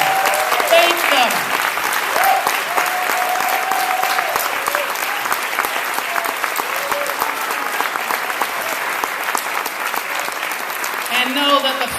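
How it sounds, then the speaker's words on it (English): Loud, sustained crowd applause at a product presentation event runs throughout, with scattered voices and a few whoops rising above the steady clapping. "Your applause for them."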